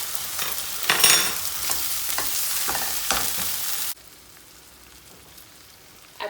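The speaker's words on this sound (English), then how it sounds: "you're gonna want to fry the curry paste down in this" Thai green curry paste frying and being stirred in a pan, a loud sizzle broken by scraping stirs for about four seconds before it cuts to a much quieter, fainter hiss.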